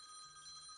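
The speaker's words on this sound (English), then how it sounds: "I got a phone call now." A telephone rings steadily for under a second at low volume, a thin electronic bell tone with no voices over it.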